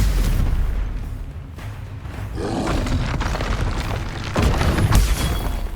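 Stupefy spell blasts in Hogwarts Legacy combat, a continuous roar of booming magical impacts and bursts, loud and dense throughout with sharper pops near the end.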